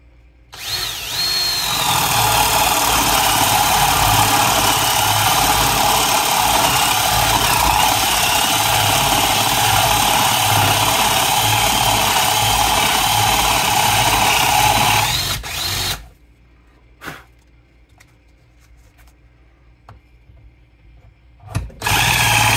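A power drill bores a 1.25-inch hole through scrap firewood, a loud steady whine with grinding for about fifteen seconds, then stops abruptly, leaving a quiet workshop with a few faint knocks.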